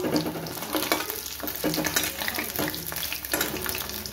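Pieces of rohu fish frying in hot oil for a korma, a steady close sizzle with crackling bursts and occasional clatter as pieces are turned, no voices.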